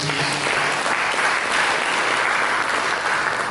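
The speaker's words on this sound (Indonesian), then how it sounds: "Mari kita berikan tepuk tangan." An Indonesian church congregation gives a sermon-time round of applause, many hands clapping in a thick, even roar that holds steady for a few seconds.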